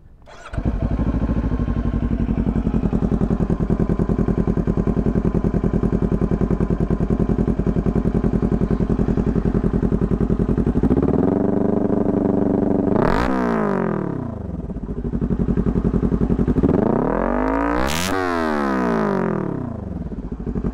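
Kawasaki Ninja 400 motorcycle fitted with a Coffman's Shorty aftermarket exhaust, idling loud and steady before two sharp throttle blips that rev up and fall back, close by with no talk.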